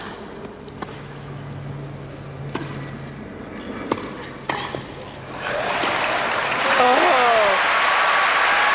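A tennis crowd at Wimbledon breaks into applause during a women's match: scattered ball strikes and a commentator's voice come first, then clapping swells into a broad, sustained ovation.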